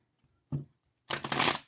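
Tarot cards being shuffled by hand, a short riffle followed by a longer, louder burst of rapid papery flicking, close and clear with no talking.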